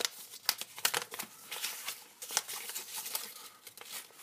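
Paper leaflet from a Seagate Expansion 1 TB portable hard drive box being handled, close crinkling and rustling in irregular bursts, with no talk.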